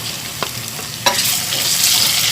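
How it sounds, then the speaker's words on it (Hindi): Tomatoes with spices, garlic and ginger sizzle and fry steadily in a pan, with a couple of sharp stirring scrapes cutting through the loud continuous hiss. "तो अब हम इसको उस वक्त तक भूनेंगे जब तक टमाटर नरम पड़ जाए"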